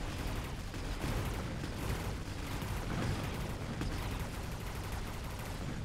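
Dense, rapid gunfire from the video game Mechabellum crackles continuously, with overlapping bursts and a dull rumble beneath, steady and fairly quiet with no voices.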